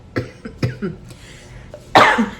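Several short coughs in a row, close and fairly loud, followed after a pause by a harsher, louder cough burst.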